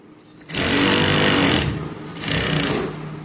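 A sewing machine stitches a blouse piece in two loud, close bursts of rapid mechanical whirring, about a second apart, with a short pause between them.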